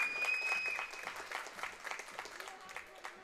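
Crowd applauding and cheering a goal at a junior lacrosse game, Sackville Sportswheels Wolves against Halifax, with steady dense clapping and crowd noise throughout under a commentator's voice.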